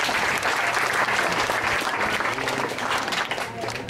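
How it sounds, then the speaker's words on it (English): An audience gathered for a World AIDS Day event breaks into sustained, dense applause, a continuous wash of many hands clapping that holds steady and eases slightly toward the end. "you need to give yourselves a round of applause for such a wonderful, wonderful achievement"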